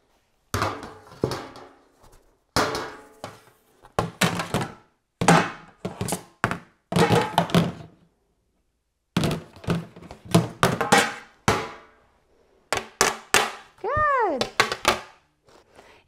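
Trays are dropped over and over in a dog training setting to imitate a bathroom door banging: sharp hollow thunks and clatters in short bursts separated by silences, with a brief whine-like tone near the end.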